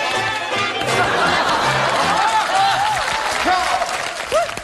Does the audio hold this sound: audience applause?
yes